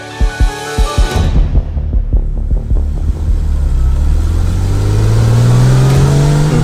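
A 2019 Kia Stinger GT accelerates hard after a few dull, rhythmic thumps, its engine note climbing loudly and steadily in pitch as it pulls through the revs.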